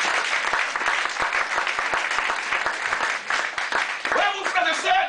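A church congregation claps and cheers loudly in praise during a French-language service, a sustained wash of applause with shouts; a voice rises over the clapping near the end.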